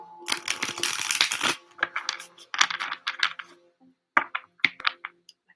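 Tarot cards riffle and snap in a dense burst, then in shorter clicking bursts with pauses between, close and crisp.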